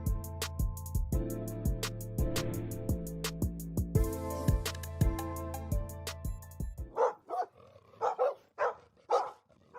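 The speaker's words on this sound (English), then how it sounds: "we're gonna bring you guys to a bulky built Bulldogs farm and show you guys some badass dogs" Dogs bark at a bulldog kennel. Over the first seven seconds a piano-like tonal passage dominates, and after that a series of loud, close barks comes in irregular bursts.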